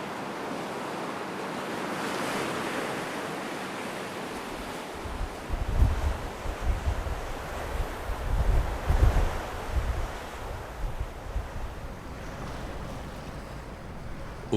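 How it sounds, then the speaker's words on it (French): Atlantic waves crash against red sandstone cliffs in the Magdalen Islands. A steady roar of surf swells into heavier rumbling surges, mixed with gusty wind buffeting the microphone, with no voices. "battues par les vagues de l'Atlantique."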